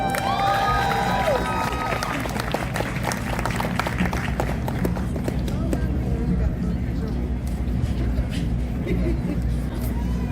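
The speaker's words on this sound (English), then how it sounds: "can we please give them a round of applause as I call each name?" A crowd at a U.S. naturalization ceremony during a World of Nations celebration applauds and cheers, with steady, dense clapping and some shouts at first, then fading to a softer, continuing patter.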